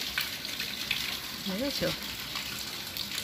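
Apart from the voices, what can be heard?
rainwater falling from the roof onto the street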